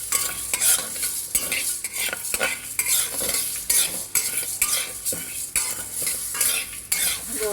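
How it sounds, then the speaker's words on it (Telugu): Chana dal, urad dal and cumin frying in oil in a pan while a spoon stirs them, with a steady sizzle under repeated scraping and clinking of metal on the pan, close and continuous, no voices. "పచ్చెనగపప్పు వేసానండి. ఇది జీలకర్ర, ఇవన్నీ మనం ఫ్రై చేసుకున్నాం."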